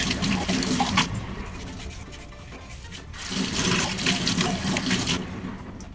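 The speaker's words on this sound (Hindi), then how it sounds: "इस मग को धो के रखूँगी मैं" Water from a running tap splashing over a mug as it is rinsed at a sink, a steady close rush that eases off briefly midway before surging again.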